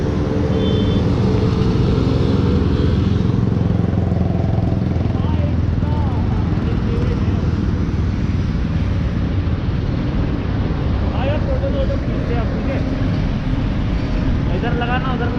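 A modified KTM RC 390 motorcycle rides along on a Sunday morning in Delhi, its engine droning loud and steady with rushing wind noise, while riders talk over it.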